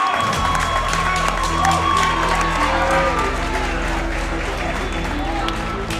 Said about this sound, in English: Round of applause for these guys right now.